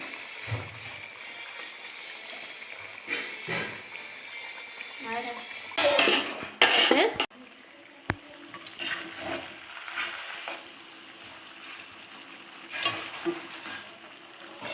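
Steady sizzling of chicken frying in hot oil, with clattering of a pan and utensils and a few louder bursts midway.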